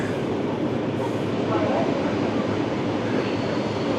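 A Russian Ivolga 4.0 train passes close by in a steady, loud rush of broadband rolling noise that holds constant throughout.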